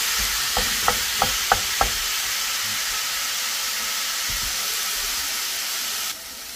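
Ground beef browns in a pan with a steady, loud hiss of sizzling fat, a few sharp ticks of the spoon early on, then the sizzle drops slightly near the end.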